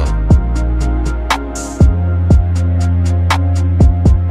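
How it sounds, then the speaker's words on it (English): Music track mastered by an AI app on a warm, low loudness setting, with a steady rhythmic beat of deep kick drums and sharp hits over sustained bass and tones, heard alone. "And now the master with the warm and low setting."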